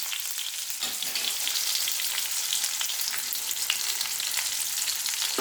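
Mango pieces fry in hot mustard oil with black cumin seeds and chilies over low heat, giving a steady, dense crackling sizzle from start to finish with no talking.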